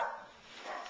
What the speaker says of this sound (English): you guys just have to continue to deal with the dog barking